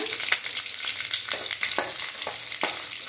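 Green chillies fry in hot oil with a dense, steady crackling sizzle close up, punctuated by a few soft stirring scrapes, no voices.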